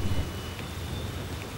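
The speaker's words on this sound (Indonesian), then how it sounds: "Terdengar lagi geledek kencang. Gerimis mulai terasa kencang dibarengi angin keras." Rain falls with a wind-blown hiss and a low rumble of distant thunder at the start. The wash of noise is moderate and steady, with nobody speaking.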